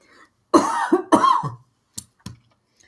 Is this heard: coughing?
yes